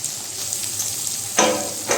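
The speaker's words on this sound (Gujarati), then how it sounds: "હવે આપણે વઘાર કરવા માટે તેલ ગરમ થવા માટે રાખી દીધું એમાં આપણે આદુ મરચાનો પેસ્ટ નાખશું" Ginger-chilli paste hitting hot oil as a tempering for Manchurian, a loud, close crackling sizzle that surges sharply partway through and again just before the end.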